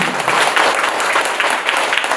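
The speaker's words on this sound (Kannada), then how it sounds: "ನಾವು ಸ್ವಾಮೀಜಿ ಅವರಿಗೆ ಆತ್ಮಪೂರ್ವಕವಾಗಿರ್ತಕ್ಕಂಥ ಧನ್ಯವಾದಗಳನ್ನ ಜೋರು ಚಪ್ಪಾಳೆ ಮುಖಾಂತರ ಅರ್ಪಿಸೋಣ" An audience at a wellness festival event gives loud, sustained applause to the Swamiji, a dense wash of many hands clapping together, close and continuous throughout.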